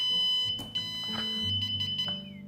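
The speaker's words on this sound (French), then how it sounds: "vous avez toujours ce bip là quand vous êtes en mode headless" A high electronic beep repeats insistently from a WLtoys Q333A drone's handheld remote in headless mode, close and shrill, with faint clicks and tones around it.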